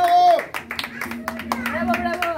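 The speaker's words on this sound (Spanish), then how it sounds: "Y fuerte el aplauso para el festejado" At a birthday party for Luis Antonio, guests clap in scattered bursts alongside voices and a musical tone.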